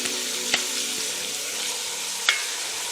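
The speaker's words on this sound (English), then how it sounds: "sauteing." Fresh garlic sautéing in a pan for a Bolognese sauce, a steady, moderate sizzle with two sharp utensil taps against the pan, no one speaking.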